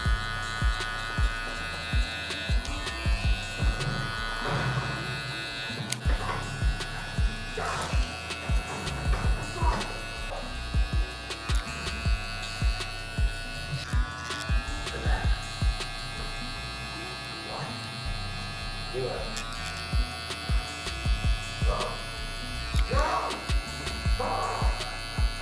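Babyliss Gold SnapFX hair clippers buzz steadily while cutting a taper, with rhythmic swells and pulses as the blade passes over hair, and brief clicks and handling noises between strokes.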